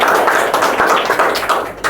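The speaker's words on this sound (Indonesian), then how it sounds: "Tepuk tangan untuk kita semua." A classroom group breaks into applause, a brief burst of dense, close clapping that runs steadily for about two seconds.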